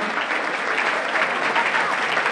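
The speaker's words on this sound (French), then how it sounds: "Est-ce qu'on peut applaudir mieux que ça?" Audience applause at a public event in the Congo, a dense, even burst of many hands clapping at once without a break.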